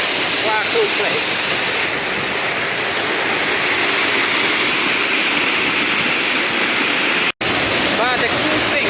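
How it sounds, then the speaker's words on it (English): A waterfall in the Brecon Beacons, Wales, roars as a loud, constant wash of rushing water from very close by, heard from inside the fall, with one brief dropout near the end. "Inside the waterfall."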